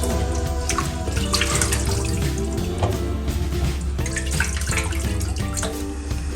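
Rice for Lucknowi biryani is rinsed by hand in water, with continuous sloshing, running and splashing close up, steady throughout and no talk.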